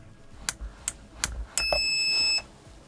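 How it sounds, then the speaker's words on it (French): Four short electronic beeps spaced about half a second apart, then a steady high-pitched electronic tone held for under a second, from a Perun airsoft module in a Krytac Vector. "On va avoir une alarme sonore plus une LED verte."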